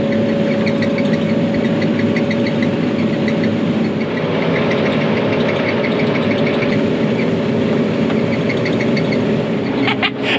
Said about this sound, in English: I'm gonna go ahead and rotary chop it, send it back into the ground